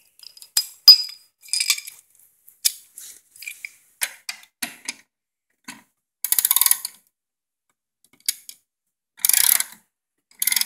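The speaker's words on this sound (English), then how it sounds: "now you're going to take your socket and your ratchet" A socket and ratchet work a bolt on a piece of equipment with a blade during maintenance, giving scattered metallic clicks and clinks. Short bursts of rapid ratcheting come in between, close up and moderately loud, with no talking.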